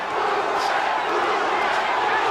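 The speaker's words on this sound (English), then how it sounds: "The crowd starts to chant again." Boxing arena crowd at a Roberto Duran bout chanting, a dense steady roar of many voices filling the hall, loud and continuous throughout.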